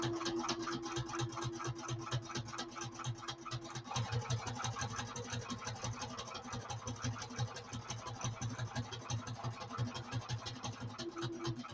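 Close, continuous machine stitching on a saddlebag flap, with a steady rapid needle rhythm that runs for the whole stretch with no pauses and no talking.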